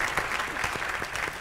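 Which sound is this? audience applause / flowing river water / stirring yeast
audience applause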